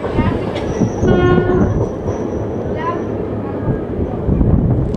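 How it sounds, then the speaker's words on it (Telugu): A train rumbles and clatters loudly nearby at Sanathnagar railway station, with a squealing whine of wheels and brakes and a brief horn-like tone, as if pulling into a station. "ఇక్కడ మాత్రం ఈ ట్రైన్ అయితే ఆగుతుంది"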